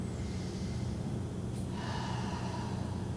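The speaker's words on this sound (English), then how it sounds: "Breathe in, push up, and exhale, come down" Audible breathing during a yoga exercise: a sharp nasal inhale followed by a longer exhale, close and fairly quiet over a steady low background hum.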